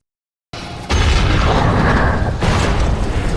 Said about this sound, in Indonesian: lalu meledakkan tali lift yang sedang ditumpangi Adam dan anak buahnya